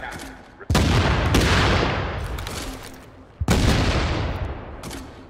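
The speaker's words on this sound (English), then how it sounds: "169 rounds of suppressive fire." Two sustained bursts of rapid machine gun fire from The Division, each starting abruptly and rattling on loud and dense for a few seconds before tapering off.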